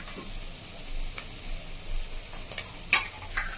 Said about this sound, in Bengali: চিকেনটা আমি দিয়ে দিচ্ছি আস্তে আস্তে।